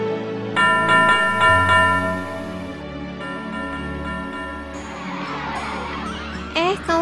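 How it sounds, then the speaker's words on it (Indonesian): A bell rings out with clear, sustained tones in a couple of strikes, followed by a softer wash of sound and brief voices. "Kamu dengar suara lonceng nggak?"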